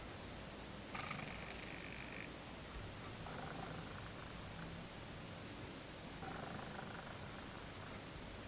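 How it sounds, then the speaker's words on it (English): A faint, steady mechanical purring of 85mm f/1.8 camera lens autofocus motors sits in the background, rising in three short, slightly stronger bursts over a constant hiss. "our camera's built-in microphone picked up a slight purring noise from all of these lenses"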